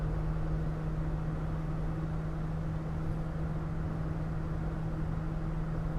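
Steady low interior drone of a 2026 Tiffin Wayfarer 25XLW motorhome cruising at highway speed, a constant engine and road hum with a sustained low tone, even in loudness throughout with no talking.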